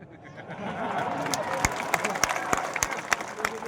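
Audience applause at a Nationalist Congress Party review meeting, a steady patter of hand claps building over the crowd's murmur, with sharper individual claps standing out near the end.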